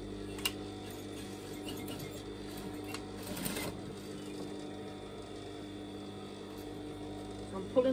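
A sewing machine runs steadily, stitching close to the seam of a layered net petticoat, its motor hum continuous and moderately near with a brief louder clatter at the end.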